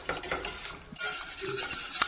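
A whisk beats egg yolks in a metal saucepan for a sabayon, giving a steady, close scraping and clinking of wire against metal that runs continuously with slight pauses.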